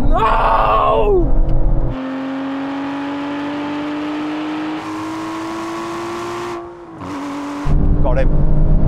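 Aston Martin engine revving hard at a drag race, a loud sustained rising drone that drops off briefly near the end before roaring back, with excited shouting over it.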